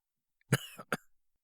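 A single sharp cough followed by a shorter second burst, close and fairly loud, then silence.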